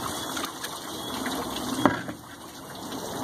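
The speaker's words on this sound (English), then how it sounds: "Or empty the bowl into a pan." Water is emptied from a bowl into a pan while recovering gold, producing a continuous close pour and gush with one brief splash partway through, at moderate volume.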